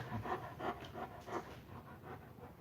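A dog pants close by in quick, rhythmic breaths, with about six to seven soft bursts over a few seconds, fairly quiet and with no talking.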